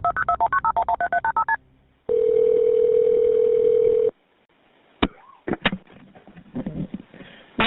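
Telephone keypad tones of a 911 emergency call: a quick run of about a dozen touch-tone beeps, a pause, then a steady dial tone for two seconds, followed by faint clicks and muffled noises.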